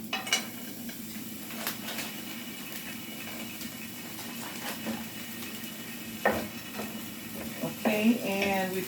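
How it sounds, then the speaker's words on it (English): A pan of eggs, onions and frozen peas being stirred for egg fried rice, a steady low sizzle under light scraping and clinks of a utensil against the pan, with a voice talking over it. "we're gonna also stir in there a little bit of frozen peas"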